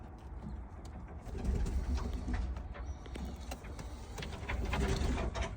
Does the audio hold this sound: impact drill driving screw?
no